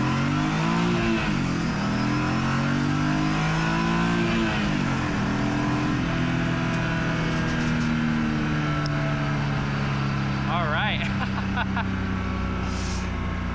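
A supercharged BMW E46 with a Vortech/Paxton centrifugal supercharger launching hard on launch control, engine roaring loudly and climbing in pitch through a gear change, with a high supercharger whine, steady and close.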